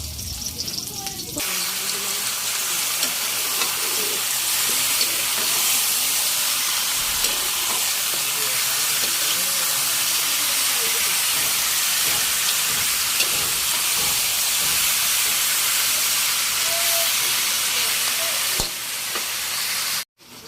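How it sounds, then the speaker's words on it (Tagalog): Food sautéing (gisa) in a hot pan at home gives a loud, steady, close sizzle and hiss that runs unbroken for about twenty seconds before cutting off abruptly. "Kaya po tayo magigisa na."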